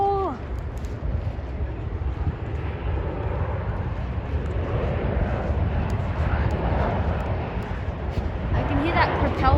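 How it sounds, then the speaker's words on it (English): Propeller airplane rolling past after landing at Sydney airport, a steady droning engine roar held at moderate distance with a slight rise near the end, while people talk nearby. "I can hear that propeller one that we just saw landing is about to come past now."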